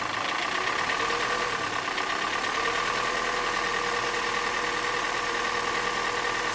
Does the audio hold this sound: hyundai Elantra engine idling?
yes